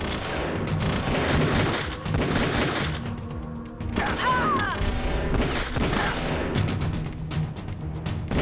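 Heavy gunfire erupts in the Metal Gear Solid The Twin Snakes video game, with loud dense bursts, rattling volleys and booms over a battle soundscape, broken briefly by a pause before resuming.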